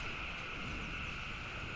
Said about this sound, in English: I turn back on that drone swarm again